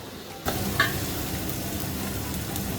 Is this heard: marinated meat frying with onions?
yes